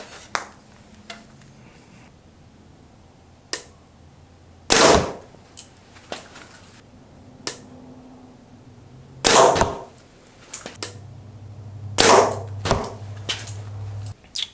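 Arrows are loosed from a Mathews Lift compound bow in three sharp, loud shots spaced several seconds apart, with light clicks and handling noises between them.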